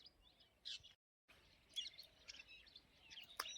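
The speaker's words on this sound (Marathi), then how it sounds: "इतक्या मोठ्या प्रमाणात पोपट आहे" A large flock of parrots calls along the Narmada riverbank pilgrimage route, with scattered high, sharp chirps and squawks at a moderate distance and a brief silent gap partway through.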